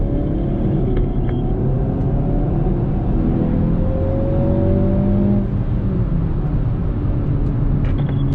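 A 2020 Hyundai Veloster N with an 8-speed dual-clutch transmission accelerates hard toward about 110 km/h on a speedway circuit. The engine drones loud and continuous as it rises through the revs, heard from inside the car.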